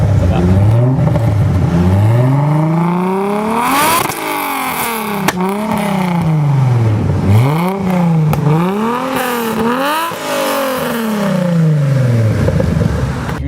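A Toyota Celica Supra with a reworked exhaust line revs hard again and again, its loud, close engine note climbing and dropping in repeated sweeps with no pause.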